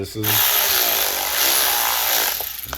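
A power drill runs loud and steady at close range during work on a fat-tire bike mod, with a brief start at the beginning and a slight dip near the end.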